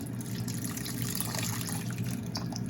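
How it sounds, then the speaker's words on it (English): A whole can of beef broth pours into a hot pan while cooking gravy, a steady close splashing, gushing liquid stream lasting a few seconds. "we're gonna add that whole can of beef broth"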